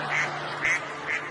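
A man imitates a duck on a talent-show stage, giving three loud, nasal quacks evenly spaced over about a second, close and clear.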